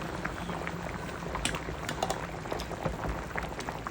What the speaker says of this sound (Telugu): మూత పెట్టి మనకి ఫిష్ ముక్క ఉడికేంత వరకు ఉడికించుకుందాం.